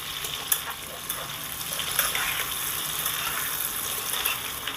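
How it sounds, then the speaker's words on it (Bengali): Puti fish fry in a pan while being stirred, producing a continuous, watery sizzling hiss with occasional soft clicks from the stirring. The sound is moderately close, with no talking. "ভেজে নেব দেখুন একটু নেড়ে চেড়ে দিলাম ভালো করে একটু নেড়ে চেড়ে দিচ্ছি"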